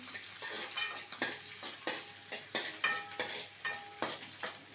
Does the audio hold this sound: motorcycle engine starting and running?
no